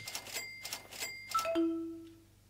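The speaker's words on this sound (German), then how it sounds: "Ja, es klingelt schon wieder." A doorbell in Internet Cafe & Supermarket Simulator rings with several bright chime strikes in quick succession, then a final descending tone that holds and slowly fades; no one speaks.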